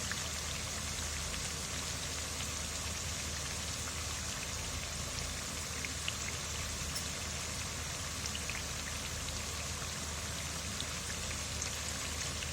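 Rice flour bora fry in oil with a dense, steady sizzle that holds evenly and fairly quietly throughout, with no voices.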